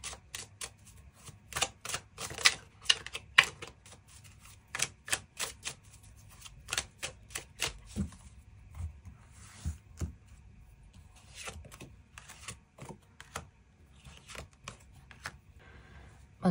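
Tarot cards drawn and tapped from a deck, a long run of sharp, close clicks and snaps in irregular bursts, quiet background and no talking.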